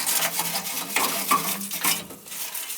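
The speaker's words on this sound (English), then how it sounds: "Give the old flame sensor a little flip and brush job" Flame sensor from a gas furnace scrubbed with a small brush, a close series of quick scratchy strokes in an irregular rhythm, fairly soft and with no talking.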